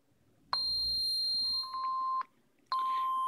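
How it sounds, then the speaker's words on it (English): A bell-like synthesized tone built by additive synthesis from a fundamental plus selected overtones, sounding as a loud steady chime that holds, shifts slightly, stops, then starts again. "Kind of sounds bell-like."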